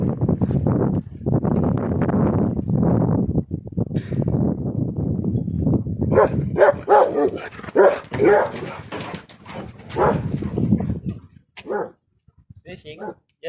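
Several dogs bark, yip and whimper repeatedly in short, irregular bursts at a house, with people talking over much of the barking.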